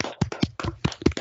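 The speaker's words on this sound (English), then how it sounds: "if everybody wants to give Peter a round of applause" Applause from a video call audience, heard as a handful of sparse, uneven claps and taps rather than a full crowd, moderately close.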